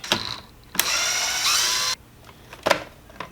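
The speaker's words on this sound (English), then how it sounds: "So next step, we have 4 Torx. There's T20s that we're going to take out." Power driver backing T20 Torx screws out of a 2019 Buick Envision side mirror, a brief whir followed by a longer sustained high whine, with clicks and taps before and after, close by.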